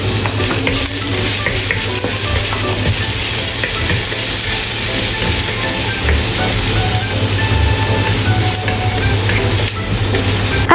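Minced meat stir-fries in a hot pan for Thai pad krapao with chopped garlic, a loud, dense, unbroken sizzle with scraping stirring throughout and no talk.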